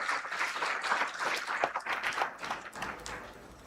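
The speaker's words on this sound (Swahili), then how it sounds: "makofi mengi kwake" A graduation ceremony audience claps for a postgraduate diploma graduate whose name has just been called, a soft, distant patter of many hands that goes on for a few seconds.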